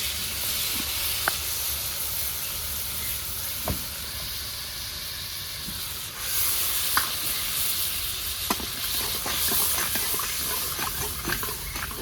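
A spice paste of salt, turmeric and red chili powder, with black cumin and split green chilies, fries in a pan with a steady hissing sizzle, punctuated by occasional sharp clicks and pops from stirring.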